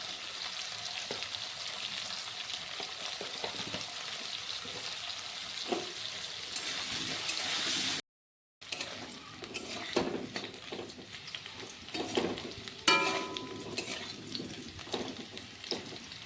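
Cut potatoes frying in oil with salt and turmeric, a continuous close sizzle with occasional stirring scrapes, briefly cut to silence midway before resuming.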